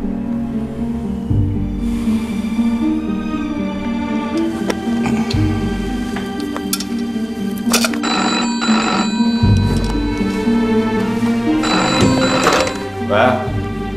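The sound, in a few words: telephone ringing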